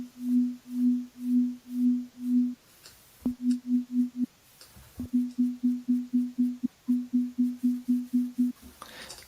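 A Serum synth oscillator holds a steady low tone whose amplitude is modulated into rhythmic pulses, first slow swells, then faster even throbs in clean repeating groups with short gaps between them.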